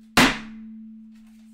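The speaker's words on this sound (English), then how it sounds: "Listen to the thud." A Thermaltake aluminum PC case panel is struck once, giving a single sharp thud with a short ringing decay over a steady low electrical hum.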